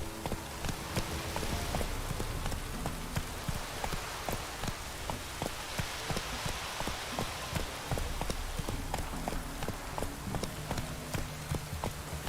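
The horse Roach gallops in The Witcher 3, a steady run of rapid hoof clip-clops over a constant hissing wash like rain, loud and continuous for the whole stretch with no talking.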